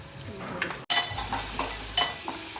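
Onion, tomato and turmeric frying in a pan for a kantoli vegetable dish, with a continuous sizzle broken by one brief silent cut, plus spoon scrapes and light metallic taps.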